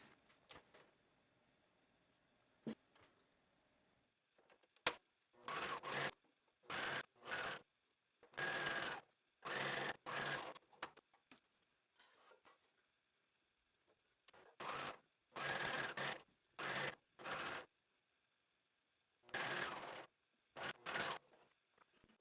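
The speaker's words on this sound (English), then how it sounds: "I'm gonna go to my cover stitch machine and we are going to work on this" A cover stitch machine edge stitching fabric runs in short, regular bursts of rapid mechanical whirring, separated by quiet pauses, close and fairly faint.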